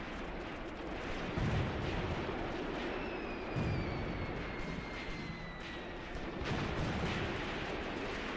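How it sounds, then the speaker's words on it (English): Mortar and artillery fire rumbles in the Graviteam Tactics war game: a dense, noisy low roar with periodic heavier thumps, plus a faint descending whistle midway. "the mortars are under fire"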